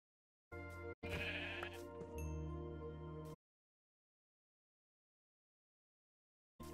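Sheep in the Minecraft video game bleat a few times in close succession, loud and near, with no talking, followed by a few seconds of silence.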